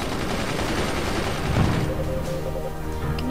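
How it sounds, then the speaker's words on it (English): Machine guns firing in the fort-building video game Forts, dense rapid gunfire bursts layered with booms, loud and continuous. "But the enemy machine guns are shooting them down."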